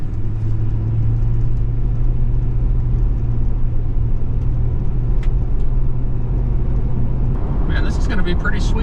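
Ford Crown Victoria P71 police car driving out on the road, a steady low engine and road rumble from inside the cabin with no pauses, brief higher clatter near the end.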